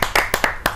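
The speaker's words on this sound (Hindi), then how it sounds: "आइए स्वागत करते हैं उनका जोरदार तालियों से।" Sparse hand claps at a Hindi kavi sammelan poetry gathering welcoming a poet, about five sharp, close claps in an uneven rhythm.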